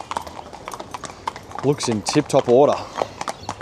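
A racehorse's hooves clip-clop in a steady rhythm close by while someone talks over them.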